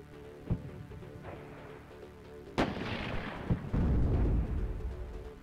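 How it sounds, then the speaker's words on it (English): Mortar and artillery fire in the WARNO war strategy game, with a few sharp booming impacts, one loud blast followed by a rolling rumble, then a heavier sustained roar. "Mortars are just keep laying down shots on me."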